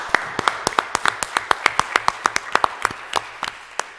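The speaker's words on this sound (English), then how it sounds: "Let's give them a round of applause." A small audience at a township meeting claps for departing members: a modest round of crisp, evenly spaced handclaps at a steady rhythm, with no other sound.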